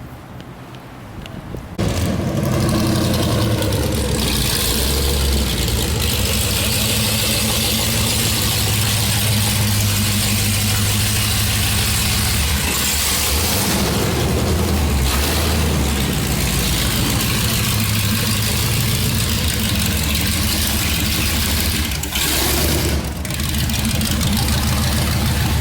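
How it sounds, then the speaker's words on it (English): Dodge Hellcat 707-horsepower engine swapped into a Miata runs steadily on a dyno, a loud continuous deep rumble lasting throughout with little variation, no talking. "So we're going to throw this on the dyno, and we're going to see if we can get all 707 horsepower out of it"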